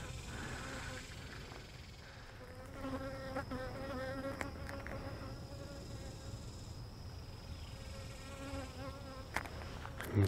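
Bees buzzing in a tiny swarm around a queen being marked, a faint close hum with wavering tones under low background sound.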